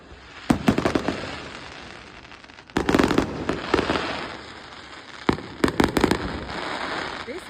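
A large fireworks display at Butlins in Bognor Regis, on the 24th of December, sets off loud bursts of booms and crackles in several clusters, with quieter stretches between them and voices faintly underneath.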